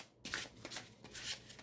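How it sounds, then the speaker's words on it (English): An Il Meneghello tarot deck, thin and flexible, is shuffled up close, giving several quick papery riffling bursts with brief pauses between them, no talk. "This is going to be much easier to shuffle."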